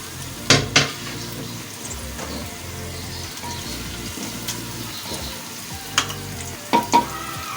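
Whole garam masala, cloves and black pepper sizzle in hot oil in a pan for a steady, close crackle, broken by a few sharp clanks of a utensil against the pan.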